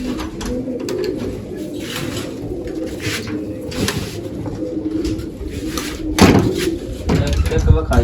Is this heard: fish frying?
no